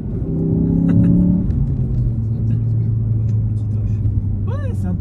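Ford Focus RS MK3 with 350 hp in four-wheel drive, drifting under acceleration: a steady low engine drone and rumble, heard from inside the car, continuing throughout with people talking over it.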